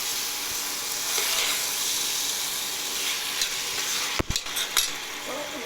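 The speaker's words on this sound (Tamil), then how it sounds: "நல்லா வதக்கிடலாம்." Goat head curry sautéing in a pan, a steady loud sizzle with a spoon scraping and stirring, plus a couple of sharp utensil knocks against the pan near the end.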